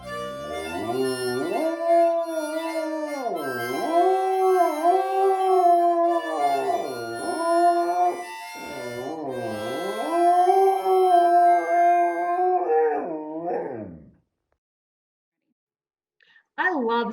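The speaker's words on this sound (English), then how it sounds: "our next act, Sam the Singing Dog, and his backup band, Alex Beats." A dog named Sam howls in long, wavering, sung tones at a variety show, rising and falling for about fourteen seconds before stopping. A short loud burst returns at the end.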